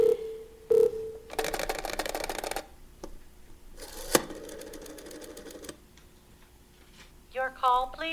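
Old-style rotary telephone dialing in a radio drama: repeated bursts of ratcheting clicks from the dial, with a tone and other short effects between them, and a voice speaking over part of it.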